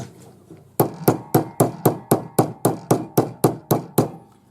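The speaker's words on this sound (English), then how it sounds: "So just keep hammering, keep moving until you reach the bottom" A hammer strikes metal while forming a hollow bangle, giving a dozen sharp, evenly spaced ringing blows at a brisk steady rhythm, close and loud with no talk.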